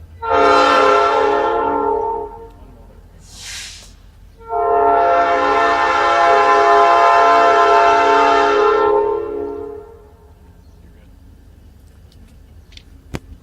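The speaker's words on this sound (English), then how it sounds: "We should have stopped the train." A passing train blows its horn in two long, loud blasts, the second lasting several seconds, with a short tonal whistle between them and a low rail rumble underneath that fades to near quiet afterward.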